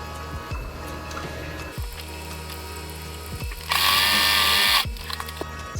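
A sewing machine sews a rat cube hammock with a low whirring hum and mechanical clicks, then a louder burst of fast stitching near the end, close up with no talk.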